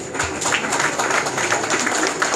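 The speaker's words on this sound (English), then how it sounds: "You can clap, yeah?" An audience claps steadily at a meeting of the All India Bank of Baroda OBC and other backward classes welfare association, a dense, even patter of many hands filling the room without a break.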